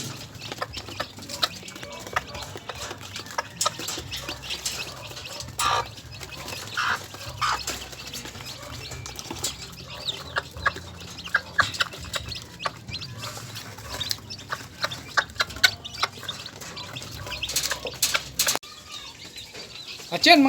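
Hen with newly hatched chicks in a cage, giving scattered clucks and soft peeps, with occasional wing flutters, close by under low background noise.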